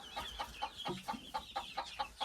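Light Brahma chickens in a coop give a rapid series of soft, rhythmic clucks, close by and fairly quiet, with about eight short evenly spaced calls.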